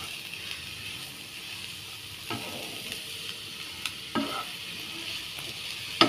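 Mushrooms and onions sizzle steadily in a pan for a mushroom chilly fry, with a few scraping stirs of the spoon cutting through the close, constant frying hiss.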